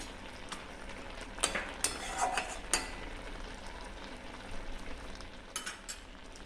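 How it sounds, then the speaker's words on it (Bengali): Fried lentil dumplings (bori) stirred into shukto simmering with milk in a pan, a faint low bubbling and soft sizzle broken by a few light scrapes and clinks of a spoon. "আর দিয়ে দিলাম ভেজে রাখা বড়িগুলো, দিয়ে নাড়িয়ে দেব"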